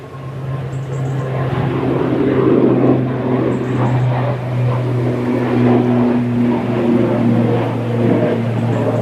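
ATR 72 turboprop departing Manchester Airport bound for Newquay, a droning propeller hum with strong low tones swelling slightly then holding steady, moderately loud and unaccompanied by speech.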